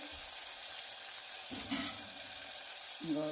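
Mustard seeds sizzle in hot oil for tomato rasam. A steady close crackling hiss swells with fresh bursts as more seeds drop into the pan, with no talk.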